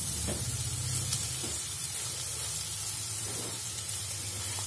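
Cauliflower bhurji sizzles steadily as it fries in a pan, with soft scraping stirs over the constant hiss throughout and no talking.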